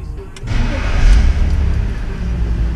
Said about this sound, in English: I'll go to start the car like I would now.